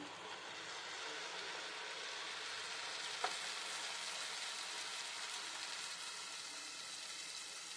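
Tomato puree added to fried onions in a pan for an egg curry sizzles in a steady, even hiss throughout, with one brief click partway through.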